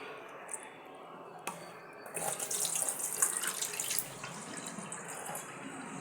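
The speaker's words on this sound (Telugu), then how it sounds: "ఇది మనం మంచినీళ్ళు డ్రింకింగ్ వాటర్ పెట్టే కడుక్కోవాలండి." Tap water runs into a sink while flattened rice (poha) is rinsed, with a soft splashing flow that swells in the middle and small drips and splashes nearby.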